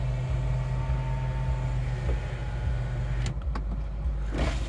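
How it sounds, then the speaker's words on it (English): A 2022 MINI Cooper S Convertible lowering its power top, a steady electric motor hum running for several seconds and ending in a few mechanical clunks, close by with no talking. "hang on, let me put the top down."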